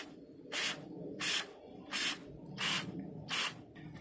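Aerosol cleaner can sprayed into a car engine in five short, even bursts about half a second long, each a steady hiss with brief pauses between, close and fairly loud over a low background rumble.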